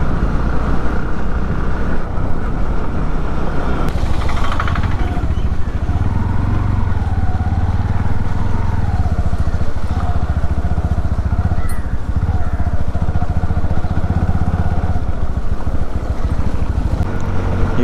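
A Bajaj Pulsar NS motorcycle riding along a beach road in the rain, its engine droning steadily with shifting pitch as it moves, heavy wind rush over the microphone throughout.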